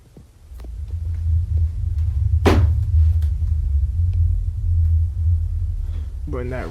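A deep, continuous low rumble runs through the background of a played tape, steady and fairly loud, with a few faint knocks and a brief voice-like sound near the end.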